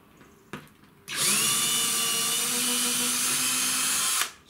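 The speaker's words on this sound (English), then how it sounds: "you drill two holes. So it's simple, through the board." A power drill whines at high speed for a few seconds, boring steadily through a wooden board, close and loud, after a brief knock.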